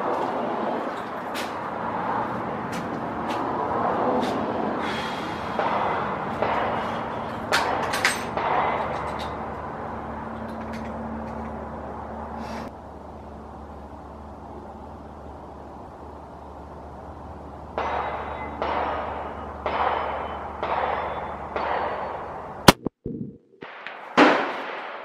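A single sharp, loud report from a 300 Weatherby Magnum rifle rings out near the end at outdoor target practice, preceded by scattered faint clicks and handling noise.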